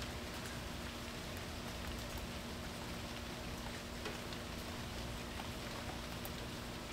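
Steady rain falls outdoors beside someone sitting in a chair, a dense continuous patter of drops hitting surfaces that stays even and close for the whole stretch, with no voices.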